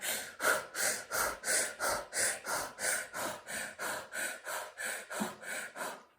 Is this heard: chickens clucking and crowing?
no